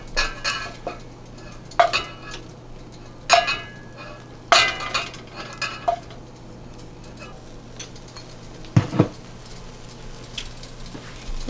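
Prawns scooped out of a pan with a metal utensil, giving several sharp clinks and scrapes against the cookware at irregular intervals over a quiet background hum.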